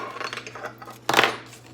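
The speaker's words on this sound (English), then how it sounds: "Got some other silverware here." Metal silverware clinking and rattling as someone rummages through utensils for a spoon in a home kitchen, light scattered clinks building to a louder jangling burst near the end.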